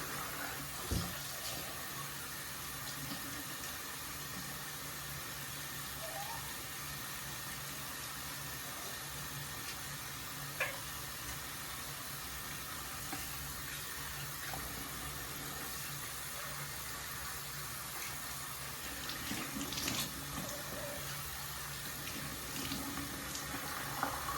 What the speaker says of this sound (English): So I'm gonna start by just washing my face really quick.